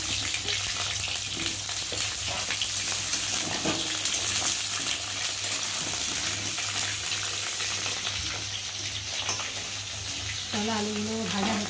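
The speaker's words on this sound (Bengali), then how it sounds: "আর এখন আমি আলুগুলো একে একে করে ভাজবো।" Potatoes frying one by one in hot oil in a kadai, a dense continuous sizzle close and steady throughout, with a few soft clinks and a brief voice near the end.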